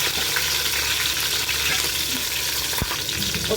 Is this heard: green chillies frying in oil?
yes